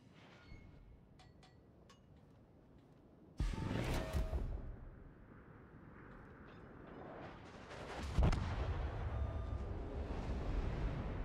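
Naval gunfire from a USS Montana battleship in a video game, with two loud broadband blasts, one sharp at the start of a sustained roar and another a few seconds later, over a low rumbling background.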